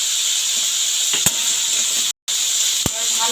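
Vegetables with ginger, turmeric and black pepper are mixed in a pan for an oats dish, with a soft sizzle and hiss, a couple of sharp utensil knocks and a brief dropout midway.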